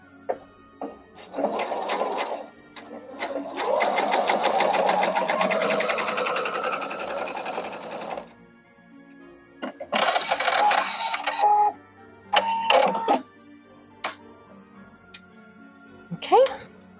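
Close sewing machine stitching quilt strip pieces for a Halloween house block, a rapid mechanical whir run for several seconds and then in shorter bursts, with someone talking in between.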